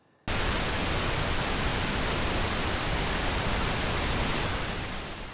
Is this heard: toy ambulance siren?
no